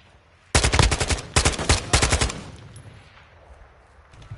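Kastov rifle fire in Warzone 2 DMZ: several rapid automatic bursts ring out loud and close over about two seconds, then trail off into a fading reverberant tail.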